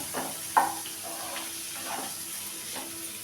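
Small prawns are stirred in a hot pan for prawn masala curry, with a steady sizzle and soft scraping strokes repeating every second or so, close by.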